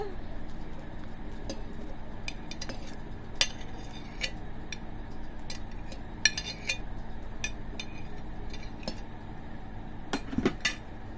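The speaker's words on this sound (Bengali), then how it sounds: "এখন আমি কলাটা ব্লেন্ডারে দিয়ে দিব।" A banana goes into a blender in a home kitchen, with light clinks and knocks of utensils and dishes scattered over a steady low background hum.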